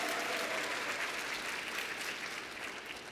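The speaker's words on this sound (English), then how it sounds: "Give her a round of applause coming all the way from Texas." Audience applause at a live conference keynote, a dense continuous wash of many hands clapping at moderate distance, holding steady and then gently tapering off toward the end.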